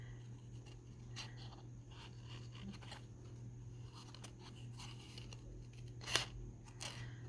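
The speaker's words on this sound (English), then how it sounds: "Let's see how good we can fussy cut these little guys out." Small paper figures are fussy-cut with scissors for decorating a Nativity journal; quiet, intermittent snips and paper crunches come through close-up, with one sharper cut standing out.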